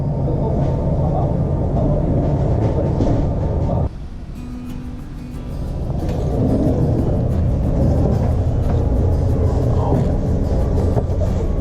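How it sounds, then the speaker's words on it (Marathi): Rumbling train at a Stockholm station, a loud steady low roar with a brief quieter dip before the noise builds again, under talk from nearby people. "ही ट्रेन आहे आपली."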